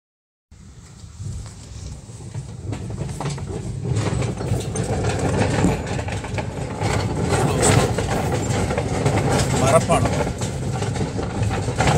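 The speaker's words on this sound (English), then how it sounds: "It's an old wooden bridge making so much of noise" A vehicle rolls across an old wooden bridge, a loud, continuous rumbling clatter that starts abruptly and grows heavier and denser over about twelve seconds, with deep low-end vibration throughout.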